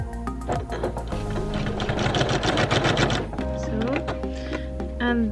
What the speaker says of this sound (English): So then I just start sewing